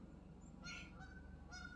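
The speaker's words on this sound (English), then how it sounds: "So there is a goose in the middle of the road." A goose standing in the middle of a road gives a few short nasal honks, fairly faint, over a steady background of outdoor rumble.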